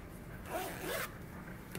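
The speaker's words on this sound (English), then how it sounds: "Now go ahead and pull your zipper pull back up." An invisible side-seam zipper on a sewn jumper being drawn up by its pull, a single soft close rasp of teeth lasting about a second, quiet and near with no talk.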